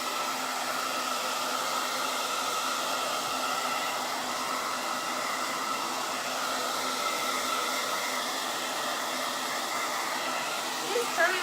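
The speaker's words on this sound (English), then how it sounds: "So I'm going to blow dry it real quick." A blow dryer running steadily to dry blue paint on a palm tree painting, a loud continuous whooshing hum for the whole stretch with no talking.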